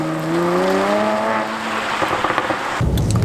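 A 2020 facelift Mercedes-AMG GLC43 Coupe with a V6 biturbo pulls away, its engine note rising in steady harmonic sweeps, then breaking into a rougher, louder burst near the end; no talking.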